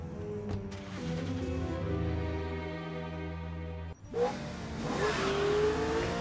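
A car engine in the James Bond Blood Stone video game revs and accelerates through gear changes, loud and close, rising in pitch with a brief drop before surging again.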